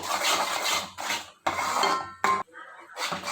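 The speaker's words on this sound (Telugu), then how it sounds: "ఒకసారి కలుపుకుందామండి మొత్తము" Capsicum masala curry stirred in a pan, a spoon scraping and clinking against the metal in several loud bursts broken by short pauses, close up and without talk.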